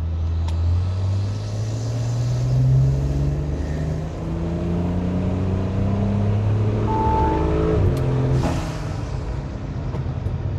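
A B9 Audi SQ5 3.0T engine roars loudly on a dyno pull, climbing steadily in pitch as it revs up, holding a sustained high-power drone for several seconds before easing off.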